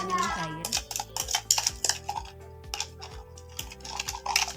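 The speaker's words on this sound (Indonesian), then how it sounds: "Kita kocok seperti ini hingga gulanya mencair." Sugar is whisked in a pan until it melts for caramel peanuts, a quick series of tapping, clicking strokes against the pan in a steady rhythm, close up, alongside a low steady hum.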